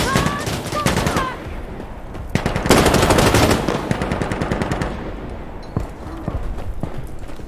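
Gunfire in the video game Insurgency Sandstorm, with loud, dense automatic bursts rattling almost without pause, sharp single shots standing out among them, and a voice speaking briefly over the shooting.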